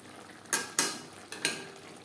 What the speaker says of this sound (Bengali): মশলার সাথে রেড চিলি পাউডার বা লাল লঙ্কার গুঁড়ো বেশ ভালো করে মিক্স করে দেবো।